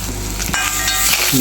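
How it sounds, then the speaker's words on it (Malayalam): Grated coconut roasting in oil in a pan for a traditional chicken curry, stirred slowly, giving a steady close sizzle with soft scraping strokes throughout. "നമുക്ക് പതിയെ ഇളക്കി കൊടുക്കാം"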